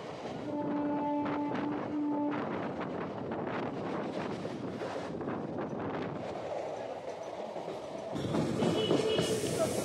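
A Howrah–Bandel local train pulls into Bhadreswar station with a loud, steady rumble and wind buffeting; a sustained tonal whine rises early, and a brighter metallic squeal surges near the end.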